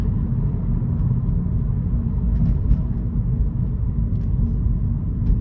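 Inside a 2012 BMW 118i M Sport, a 2.0-litre Steptronic automatic, the car slows for traffic lights with a continuous low rumble of road and engine noise and a few faint ticks and knocks over it.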